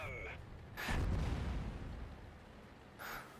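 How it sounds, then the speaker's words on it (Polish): Explosions and artillery fire boom in a tank video game, a heavy low blast near the start followed by a rumbling tail, with a voice briefly heard over it. "Z jednej strony, z drugiej strony wybuchy."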